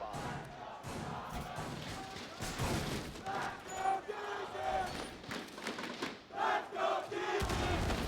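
Arena crowd at an esports grand final of Rainbow Six at the Charlotte Major, cheering and roaring for Astralis, a dense sustained wall of voices with surging shouts and thumps throughout.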